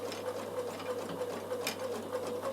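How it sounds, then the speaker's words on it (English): Sewing machine running steadily while top stitching with a twin needle, a fast even mechanical whirr and rhythmic clatter, close up with a low hum underneath. "I'm going to stitch through the centre, and it's going to stitch either side of my work"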